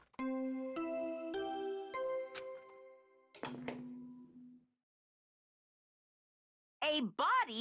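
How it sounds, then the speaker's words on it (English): The body discovery announcement chime from Danganronpa: Trigger Happy Havoc plays as a descending series of ringing electronic bell tones. A pause of silence follows, then a short warbling electronic sound. "What you just heard was the body discovery announcement."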